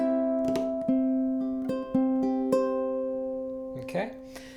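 Ukulele picking out bars 3 and 4 of a tune slowly, a few plucked and strummed notes ringing out one after another, close and clear, with a short strum near the end and no talking.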